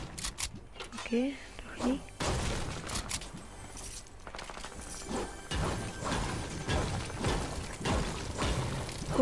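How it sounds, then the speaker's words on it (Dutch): Gunshots in a battle royale video game match, a run of sharp cracks and rattling bursts amid clicking game noise, with someone talking quietly in the background. "Ik hoor wel schoten, dus dat is ook al goed."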